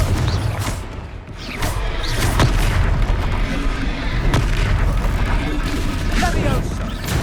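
Confringo fire spell blasts in Hogwarts Legacy combat, loud booming explosions and thuds layered over continuous battle noise and music, with a voice calling out.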